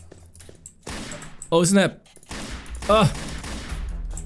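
Gunfire in the Granny mobile horror game rings out as a rapid fusillade of sharp, close shots, broken by two short vocal outbursts from a player.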